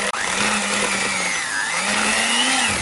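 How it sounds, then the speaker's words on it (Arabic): An electric hand mixer whirs steadily while beating butter with sugar for petit four biscuits, a loud, close, continuous motor drone whose pitch rises and dips slightly as the beaters move, with no talking. "هضرب الزبدة كويس جدا مع السكر"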